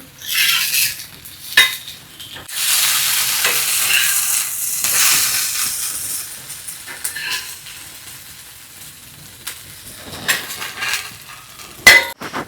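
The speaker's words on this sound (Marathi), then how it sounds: "आता ह्याला एका साईडने चांगलं फ्राय होऊ दे मग परत एकदा पलटी करूया" Potato slices frying in a pan, Konkan style, give off a hissing sizzle that swells and fades, broken by sharp metallic clinks and scrapes of a utensil against the pan near the end.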